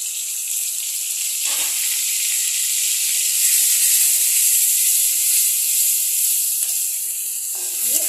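Onion and ginger paste with spices sizzles steadily in a hot pan while being sautéed for a fish curry, a loud continuous frying hiss broken by a few soft stirring scrapes, with no talking.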